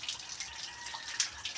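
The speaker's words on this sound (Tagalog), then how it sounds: "Kusog itong tubig guys." Strong, steady rush of running water, a continuous bright hiss with small splashes and one brief louder surge, close by and with no voices.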